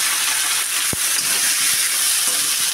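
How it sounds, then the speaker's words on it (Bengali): Chickpeas and green chillies frying in hot oil, a steady loud sizzling hiss with a few soft clicks and pops from stirring, close and continuous throughout. "ছোলাটা দিয়ে একটু ভাজা করে নিতে থাকবো, আর কাঁচা লঙ্কাটাও আমি একবারে দিয়ে দিলাম"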